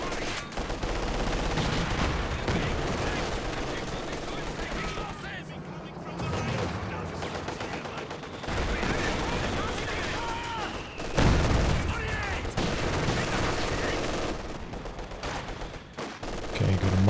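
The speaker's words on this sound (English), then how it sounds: "MG setting up. Heavy mortar coming through." Machine gun bursts and heavy mortar fire in a competitive strategy video game match: dense, continuous rattling gunfire and booms under constant excited commentary, loud and busy throughout.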